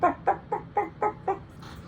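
A chicken clucks in six short, evenly spaced bursts at a steady rhythm, close and fairly loud against a quiet background.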